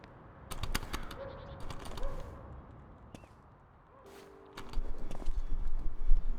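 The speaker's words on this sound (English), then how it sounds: "I even have the comfy ASMR keyboard." Keys clack on a comfy ASMR keyboard in bursts of close, crisp tapping, with quieter gaps between runs and a busier flurry toward the end.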